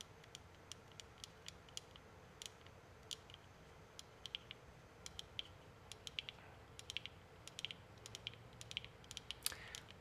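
Crisp clicky buttons pressed one after another on a 3D printed microscope enclosure, sharp close clicks at an irregular pace, sparse at first and then more frequent, over a quiet background.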